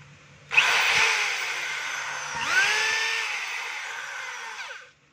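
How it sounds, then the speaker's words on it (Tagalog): DeWalt hammer drill being tested after a repair: a steady, loud, high-pitched whirring motor runs for about four seconds with a brief surge midway, then spins down. "So yun po yung drill"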